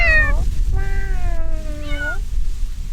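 A cat gives a few drawn-out meows, loud and close, over a low steady rumble of background noise.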